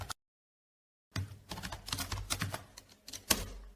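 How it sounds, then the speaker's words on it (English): The git init command typed on a computer keyboard: after a second of silence comes a steady run of crisp key clicks, close and fairly quiet, ending with a sharper keystroke. "So I'm typing the command git init."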